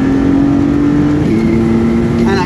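Maserati MC20 engine and exhaust while driving, a loud, close drone that drops briefly in pitch at a gear change and then pulls on steadily.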